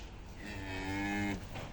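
A cow offered for sale lets out a single drawn-out moo lasting about a second, loud and close, with no talk over it.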